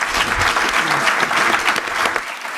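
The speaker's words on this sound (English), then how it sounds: "Let's give our panelists another round of applause." An audience at a security forum plenary session gives the panelists a round of applause, a dense burst of clapping that holds steady and then fades at the end.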